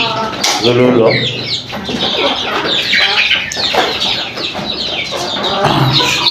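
Native free-range chickens cluck close by in a steady stream of short, throaty calls across several seconds, with voices and other activity mixed in.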